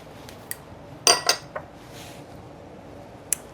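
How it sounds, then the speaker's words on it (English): Eggs and vegetable oil are added to a mixing bowl for an orange juice cake, giving a couple of sharp clinks and taps of shell and utensil against the bowl, close and brief, with quiet between. "We'll add our eggs. Our vegetable oil."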